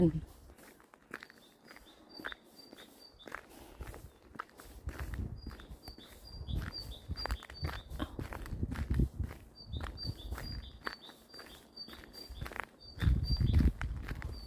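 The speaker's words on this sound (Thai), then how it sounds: "ฟังเสียงนกร้องเพลง" Small birds sing along a roadside in Sweden during a walk to work. Repeated short, high chirps come in clusters over scuffing footsteps and low rustling, moderately near and fairly quiet.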